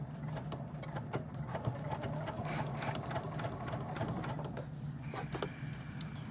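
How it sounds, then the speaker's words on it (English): Sewing machine stitching steadily along a fabric edge, a continuous soft mechanical hum with quick rhythmic needle clatter, heard close and fairly quiet. "we're going to stitch right along the edge"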